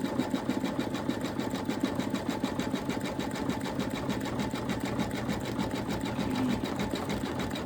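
An embroidery machine stitches an Easter bunny appliqué in a hoop, its needle hammering in a fast, even, mechanical rhythm that holds steady throughout, close and continuous with no talking.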